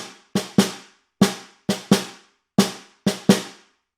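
Eight sharp snare drum strokes in an uneven rhythm from a solo snare étude played without drags, close and loud with clean decays between hits.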